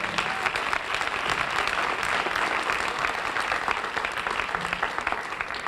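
Loud, continuous applause from a crowd at a 2018 YMTF assembly, many hands clapping in a thick, even roar that holds steady throughout without letting up.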